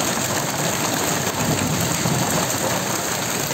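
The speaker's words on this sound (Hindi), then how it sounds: "अब ये मूसलाधार बारिश चालू हुआ है" Torrential rain during a hailstorm in Jamshedpur pours down in a dense, loud, unbroken hiss, steady and close, with no voices.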